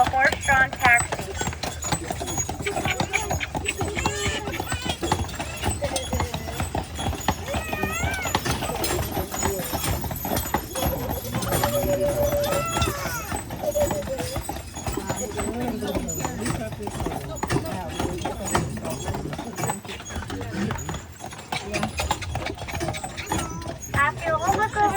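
Horses, including Belgian, Percheron and Standardbred, pulling horse-drawn taxi carriages on Mackinac Island, with a steady clip-clop of hooves running continuously under a guide's nearly constant talk.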